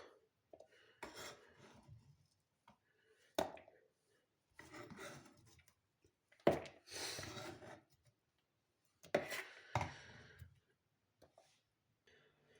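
Romaine lettuce is chopped with a knife for a salad, giving intermittent crisp rasping cuts in short bursts separated by silences, close and fairly quiet.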